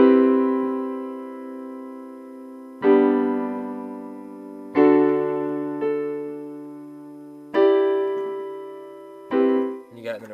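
Piano plays the intro of a song, sustained chords struck one at a time with slow decays, about five distinct attacks in a measured pattern, clear and close with no talking.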